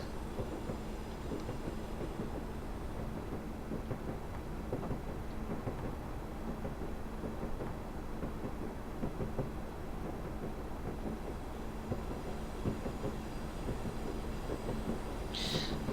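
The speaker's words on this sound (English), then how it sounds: "And now, as we're on the viaduct, let's put the brakes on because we have to stop on it." A train in Train Simulator 2016 crosses a viaduct and brakes, giving a low, steady rumble of wheels and engine throughout, with a brief hiss near the end.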